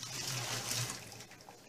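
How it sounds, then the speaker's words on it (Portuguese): Boiled water poured out of a new cast iron pot after seasoning, a soft, steady trickle and splash lasting under two seconds, faint and close with a low hum beneath. "Vou jogar aqui essa água fora, né?"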